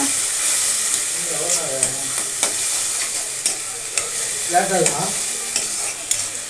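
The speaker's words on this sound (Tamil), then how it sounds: "தக்காளி பழத்தை நல்லா மிக்ஸ் பண்ணிக்கோங்க இந்த வெங்காயத்தோட" Ground tomato paste and onions frying in a pan for a tomato egg masala, stirred with a spoon that taps and scrapes the pan now and then over a steady hiss.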